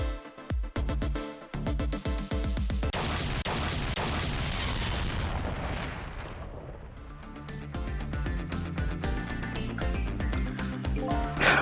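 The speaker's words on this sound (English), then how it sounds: "I think I heard an explosion somewhere" An explosion in the Ghost Trick video game, a series of rumbling booms and cracking bursts that swell into a loud roar, then settle under dense game music.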